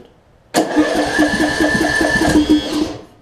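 A Craftsman LT2000 riding mower's small engine cranks and sputters loudly, backfiring as it starts, running roughly and unevenly for a few seconds before cutting out.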